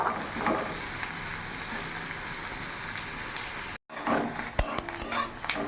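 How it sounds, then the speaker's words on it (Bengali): Onion frying in a pan for chicken curry, heard as a close, even sizzle with stirring scrapes and spoon-on-pan clinks, a short gap, then sharper clatter at the end; nobody speaks. "চিকেন পেঁয়াজটা আমি ততক্ষণ ভাজবো যতক্ষণ কাঁচা গন্ধটা আমার চলে না যায়।"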